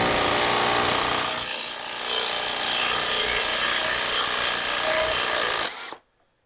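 A power tool undoing a 30mm nut on an Aprilia Pegaso 650 flywheel: loud, close continuous rattling whir with grinding impacts for several seconds, ending in a brief rising whine before stopping abruptly into silence.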